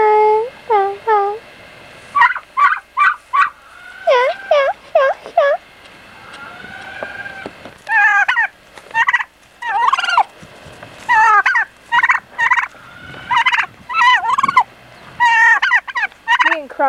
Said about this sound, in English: And the turkey, Crunk.